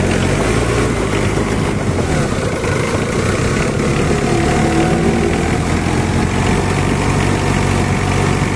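A Mitsubishi Adventure engine runs steadily close by after starting, a continuous low rumble with a faint rise as it is revved, no voices over it.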